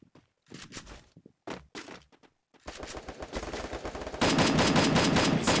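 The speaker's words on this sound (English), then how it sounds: "And finally, the gunshots get exchanged." Video game gunfire in Garena Free Fire: scattered single gunshots give way to dense, rapid automatic fire that grows louder and more continuous toward the end, with no talking.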